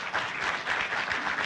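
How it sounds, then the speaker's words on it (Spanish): Applause from a congress audience for a director, a short burst of dense clapping that swells and holds, moderately loud and fairly close. "quisiera que le ofrezcamos un fuerte aplauso al director por todo este apoyo"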